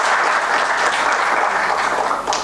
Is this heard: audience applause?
yes